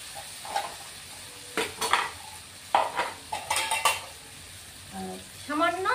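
Vegetables and potatoes frying in a pan while a metal spoon stirs and scrapes them, with sharp clanks and clatters of utensil on cookware over a soft sizzle, close and loud in irregular bursts.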